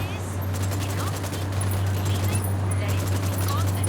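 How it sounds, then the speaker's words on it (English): Sustained automatic gunfire in Tom Clancy's Ghost Recon, rapid rattling bursts over a steady low engine hum, loud and continuous with distant shouting voices mixed in. "I'm opening fire on these shitheads."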